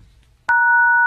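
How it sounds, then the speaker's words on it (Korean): A telephone ringback tone while a call is being placed: after a soft click, a loud, steady dual-pitch tone holds continuously for over half a second over faint low background noise. "주기자한테 전화 좀 할게."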